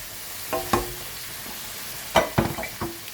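Beef mince frying in a pan on high heat with tomato, onion and garlic, a soft sizzle broken by several loud clanks and scrapes of stirring, close and with no voices.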